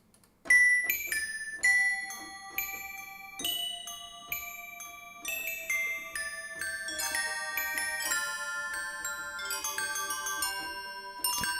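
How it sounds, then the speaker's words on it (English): Synthesized bell samples from The Legend of Zelda chime in a melodic sequence of bright, ringing struck tones with long decays, notes layering and overlapping as the phrase builds, clean and alone without talk. "Let's try bells."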